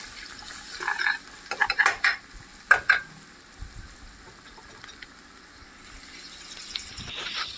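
Onions frying with a pinch of turmeric get stirred in a pan: a few clustered scraping and clinking strokes in the first three seconds over a faint soft sizzle that continues quietly, close, with no voices.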